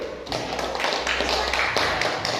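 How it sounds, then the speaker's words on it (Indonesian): A classroom group claps for the first student group after their presentation, a steady mass of hand claps running throughout with faint talk mixed in. "tepuk tangan untuk kelompok 1"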